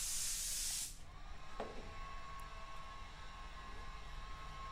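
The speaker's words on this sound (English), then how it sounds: "I'm spraying out the panel in metallic white course" An airbrush sprays metallic white paint onto a panel, a brief hissing burst lasting about a second, then it cuts off to a quiet room hum with a faint tap.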